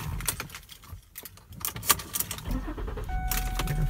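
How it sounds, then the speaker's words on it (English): Keys rattle, then a 2007 Lincoln MKX AWD SUV engine cranks and catches at close range, settling into a steady idle hum. "let's start her up, take her for a quick spin"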